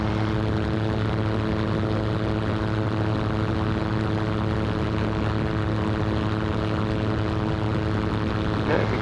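A floatplane's propeller engine drones loudly and steadily close by at reduced throttle as it taxis on a cove after a water landing, a continuous buzzing hum with no break.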